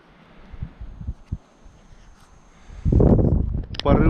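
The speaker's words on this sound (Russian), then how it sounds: "На улице ветрище капитальное." Strong gusts of winter wind in the taiga hit in a loud, low roaring blast that starts near the end and continues, after a quieter stretch with faint scattered thumps.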